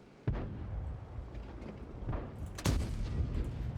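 A tank gun firing at a Ferdinand in World of Tanks: two sharp, booming shots about two seconds apart over steady battle noise, loud and close.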